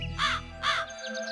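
A cartoon crow caws twice in quick succession, two loud harsh calls close up, followed by faint chirpy sound effects in the background.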